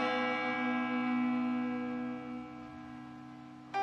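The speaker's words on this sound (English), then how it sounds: "She remembers that church bell would ring every day" A church bell rings out alone with one sustained, shimmering toll that slowly decays, then a fresh strike comes at the end.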